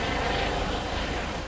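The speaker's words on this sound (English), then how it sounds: "a police helicopter circling above." A police helicopter circling overhead near a school and shops, heard as a steady, continuous broadband rotor and engine drone that stays loud throughout with no talk.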